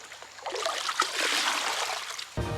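Water trickles and splashes steadily from a starting trommel at a Wisconsin mining site, with a broad hiss, near and moderately loud, followed by a brief low rumble at the end.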